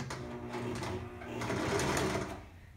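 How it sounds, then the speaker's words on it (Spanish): A sewing machine runs steadily while stitching a winter coat, its close, continuous mechanical whir holding throughout with no voices. "Así es que nos vamos a coser"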